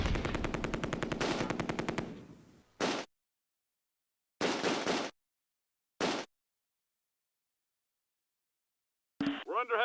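An MG42 machine gun and rifles fire in a Close Combat World War II battle near Nijmegen Bridge: a long rapid burst, then several short separate bursts with silence between them, loud and close.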